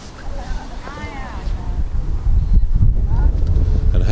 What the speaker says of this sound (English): And there's a bit of wind, and the wind is very cold.